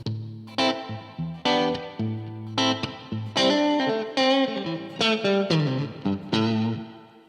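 Electric guitar played through a Bad Cat boutique amplifier with reverb, a warm, slightly distorted tone sounding as a run of plucked chords and notes that ring and decay into one another, up close and without any talk.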